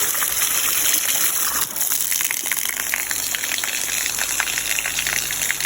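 Cold spring water gushes steadily from the ground, led along a line of two joined bamboo pipes beside a canal, making a loud, continuous close-up rush with no break.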